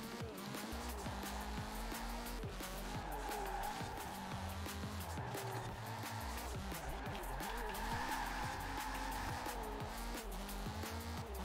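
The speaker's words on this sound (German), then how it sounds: "Okay, nochmal ein bisschen getriftet. Ja gut, das ist ein Rallye-Auto." Rally car drifting in Forza Horizon 4, its engine revving and shifting continuously while tires skid and squeal across the loose surface, steady and close throughout.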